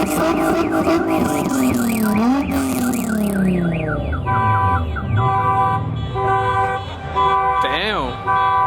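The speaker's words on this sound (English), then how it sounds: "Oh, everyone's putting their alarms." Several car alarms blare at once at a Halloween car meet: warbling sirens sweep up and down, then give way to steady pulsing beeps and chirps. The alarms are loud and close, with voices talking beneath them.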